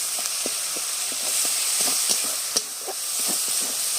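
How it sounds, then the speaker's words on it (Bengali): Masala cooked with ginger-garlic paste hisses and sizzles steadily in hot oil for a fish curry, with small pops and spatula taps scattered through, close up and without speech. "দিয়ে ভালো করে মশলাটা ভালোভাবে একটু কষে নেবো"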